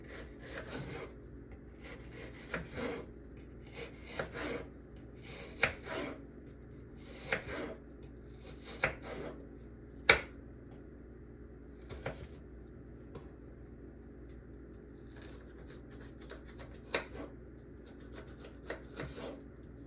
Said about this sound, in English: here I will go ahead and slice my onion